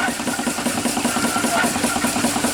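A small 4.5 engine driving a steam pump idles with a steady, rapid chugging pulse, close by and constant throughout.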